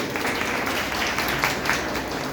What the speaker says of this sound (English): big round of applause to all of you